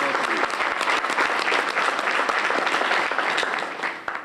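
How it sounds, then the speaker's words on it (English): Sustained audience applause at an opening banquet, a dense crowd clapping steadily and loudly throughout before tapering slightly at the end. "Let us give them another round of applause for all the consultants."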